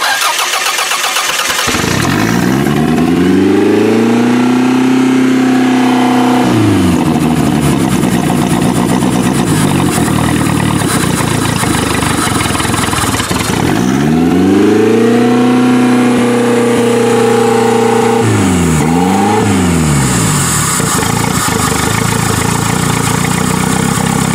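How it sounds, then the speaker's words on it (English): A used Toyota's engine, its idle raised with the throttle cable attached, cranks and catches twice, each time rising into a loud rough run with revving before dropping away; close and loud, with no talking. "we've kicked the idle up by putting the throttle cable on and see if she fires up"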